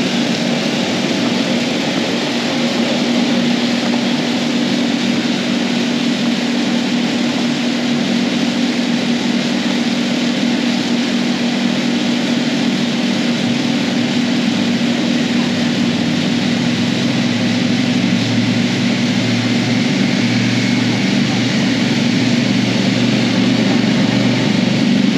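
A drone flies over Russellville, Arkansas, its propellers giving a steady, loud buzzing whine that holds constant throughout with no voices.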